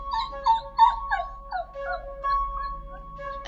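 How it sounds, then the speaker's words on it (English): A dog waiting to go out in the morning whimpers and whines in a series of high, wavering cries, close by and fairly clear, with short pauses between them. "A dog waiting to go out."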